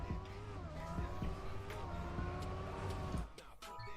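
A car in the racing video game Trackmania drives with a steady engine drone and shifting pitch, mixed with faint clicks, under background talk before it thins out near the end.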